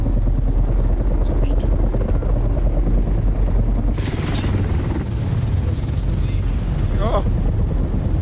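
A helicopter in a video game drones with a steady low rotor rumble throughout, its craft taking damage during a combat mission, while players talk over it.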